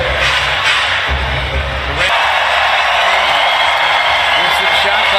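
Arena crowd at a Golden State Warriors vs Detroit Pistons basketball game roaring and cheering continuously, loud and dense, with a brief surge partway through and a commentator's voice faintly mixed in.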